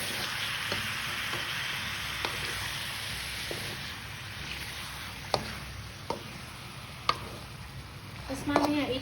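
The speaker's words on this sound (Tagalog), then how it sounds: "Haluin lang natin." Adobo sizzles steadily in a pan, with a few sharp clinks and scrapes as it is stirred, and a clatter of utensils at the end.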